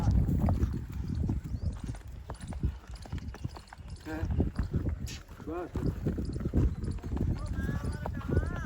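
Horse hooves clip-clop steadily on a farm while someone talks and calls to the animal over light wind.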